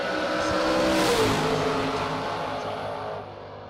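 Chevette and Corvette drag racing cars roaring down the strip at a SuperBucks Showdown race, a loud engine roar swelling then fading as they pass.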